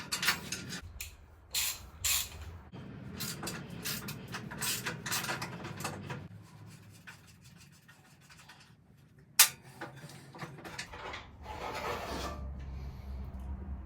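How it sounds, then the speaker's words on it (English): A big spanner works the bolts holding a go-kart's front axle, giving scraping, ratcheting and clicking metal sounds in uneven bursts with short pauses and one sharp clank, close by. "take the front axle off. Need a big spanner"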